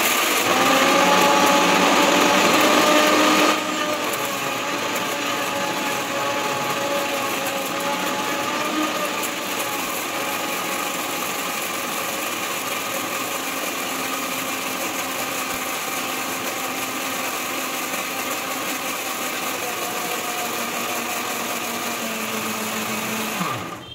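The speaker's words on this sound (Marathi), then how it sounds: "आता मी एकदा मिक्सरला छान फिरवून घेत आहे" A mixer grinder runs steadily for about twenty-four seconds, blending garlic, ginger and coriander stems into a paste without water, with a loud continuous motor whine that drops slightly in pitch after the first few seconds.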